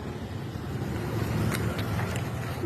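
A large truck rolls past outdoors, its engine rumble and tire noise building to a loud, continuous roar that swells slightly toward the end.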